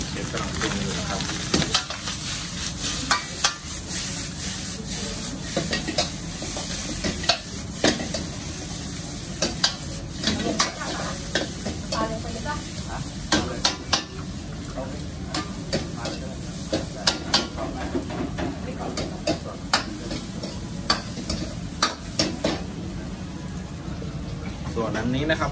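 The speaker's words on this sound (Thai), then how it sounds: "อันนี้ทำข้าวผัดปลานะครับเชฟกำลังปรุงอยู่นะครับ" A chef stir-fries fish fried rice in a wok in a Thai restaurant kitchen in Germany, with continuous hot sizzling and frequent sharp scrapes and clacks of a spatula on metal, while voices talk in the background.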